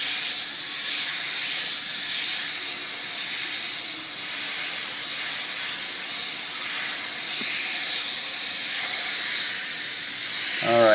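An airbrush sprays paint onto rayon fabric with a loud, continuous, close airy hiss that holds steady throughout, without talk.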